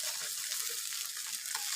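Pieces of egg fry in a pan with a dense, even, close-up sizzle of hot oil that holds steady throughout, with no talking.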